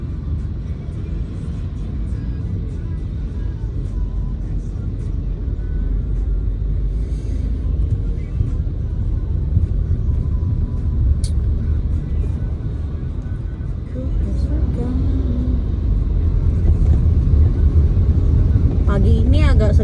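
Morning road traffic jam, a steady low rumble of many idling and creeping engines that holds unbroken throughout, close and fairly loud.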